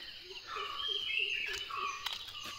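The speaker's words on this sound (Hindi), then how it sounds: "शांत रहे, चिड़ियों की चहचहाहट सुनाई दे।" Faint bird chirps and twittering drift through a steady outdoor ambience at a resort in Wayanad, India, soft and somewhat distant, with no talking.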